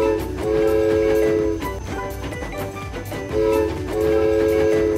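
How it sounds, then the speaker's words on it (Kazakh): A toy train in a children's cartoon picks up speed, with a bright whistle-like tone over rhythmic clattering and music, loud and close. "Пойыз жылдамдықты басты."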